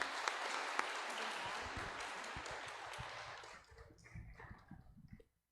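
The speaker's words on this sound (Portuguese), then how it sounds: "Aplauda ao Senhor Jesus." Church congregation applauding, a dense broadband clatter of many hands that holds steady for about three seconds, then thins into scattered claps and low murmuring before fading out.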